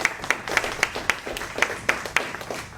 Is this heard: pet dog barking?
no